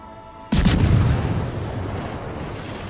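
A naval gun salvo of high-explosive shells in World of Warships fires with one sudden loud boom, followed by a long rumbling decay that fades slowly, with no voices over it.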